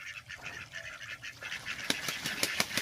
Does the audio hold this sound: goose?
yes